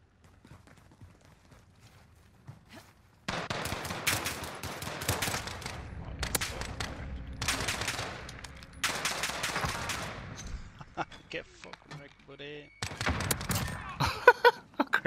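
Gunfire from a weapon in The Finals, loud bursts of rapid automatic shots repeated several times after a quiet start, with short gaps between the volleys.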